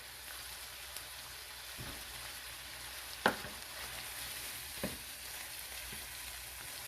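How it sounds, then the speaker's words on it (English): Tex Mex casserole ingredients being stirred with cilantro: a soft, steady sizzling hiss, with a couple of brief scraping knocks from the spoon. "Now let's stir it all together."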